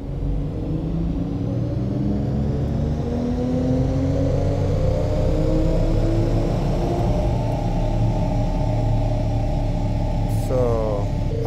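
Turbocharged Toyota GR Supra with a big stock-frame turbo on E50 fuel, in sixth gear on a dyno, its engine droning steadily and rising in pitch through a long, loud pull, with a brief whine near the end.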